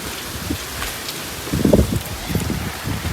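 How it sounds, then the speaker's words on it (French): Heavy rain pours during a storm outdoors, a dense, loud, continuous hiss with gusty wind buffeting and rustling that swells midway through. "Et il pleut des cordes."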